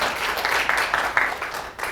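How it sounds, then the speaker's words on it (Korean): An audience at a corporate lecture applauds with a brief burst of many hands clapping, dense and fairly close, swelling in short waves before it fades. "박수 한 번만 주세요"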